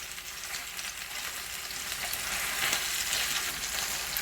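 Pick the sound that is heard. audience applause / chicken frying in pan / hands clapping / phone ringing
chicken frying in pan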